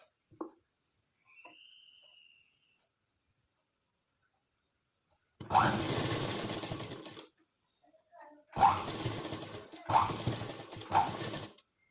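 A sewing machine on a normal straight stitch sews a frock in several close, steady whirring runs of a couple of seconds each, broken by pauses. Someone speaks briefly before the stitching starts.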